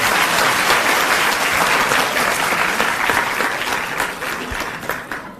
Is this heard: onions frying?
no